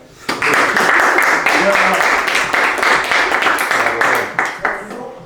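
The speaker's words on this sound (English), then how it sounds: "let's take a round of applause, please, everybody" A roomful of people breaks into loud, sustained applause from a live talk-show audience, dense overlapping claps starting abruptly and holding steady before tapering off near the end.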